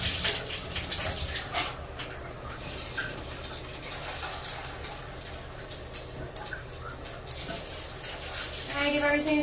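Hot water runs steadily from a bathroom tap in a tiled bathroom being cleaned, a continuous broadband gush with a few brief knocks and clatters over it.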